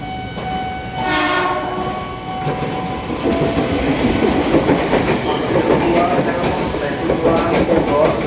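At a Jakarta platform at night, an electric commuter train, an ex-Tokyo 8500 series, sounds a short horn and then rumbles and clatters loudly and steadily alongside, with a voice faintly heard beneath.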